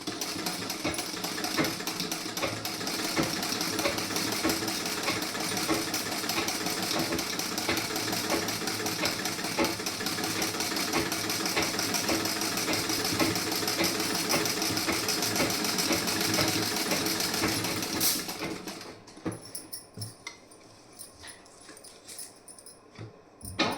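A sewing machine stitches the back panel and sleeve of a garment, running in a fast continuous whir for most of the time before easing into short, stopping bursts near the end.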